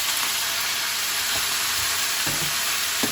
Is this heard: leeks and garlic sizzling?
yes